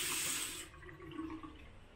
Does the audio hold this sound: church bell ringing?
no